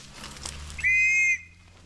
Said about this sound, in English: I'm going to blow my scout whistle.